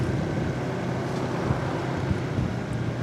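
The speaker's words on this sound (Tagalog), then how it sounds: "Ayan lakas talaga ng hangin" Strong wind buffets the microphone near the Bucana Bridge repair site, producing a loud continuous roar with gusty low-frequency rumbling.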